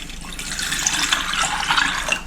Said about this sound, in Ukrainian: Заливаю горіхи холодною водою